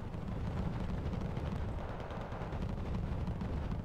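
Video-game artillery fire comes through as a steady, dense rumble of continuous booming and blasts, loud and unbroken for a few seconds with no clear gaps between shots.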